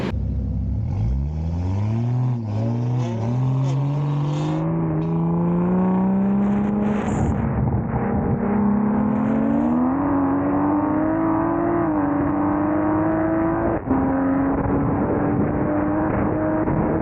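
A Nissan GT-R accelerates hard in a race, its engine note climbing loud and close through several gear shifts, each upshift dropping the pitch before it rises again, with no voices.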